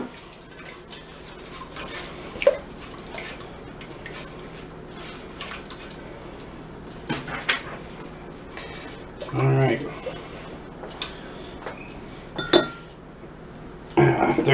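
Cinnamon bread dough mixed in a bowl, with irregular clinks and scrapes of a utensil against the bowl and a few louder knocks, heard alongside talking.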